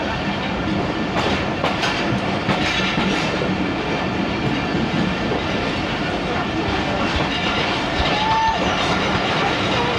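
A passenger train on the Faisalabad to Lahore route runs along the rails with a continuous loud rumble and rattling clatter, and a brief squeal appears near the end.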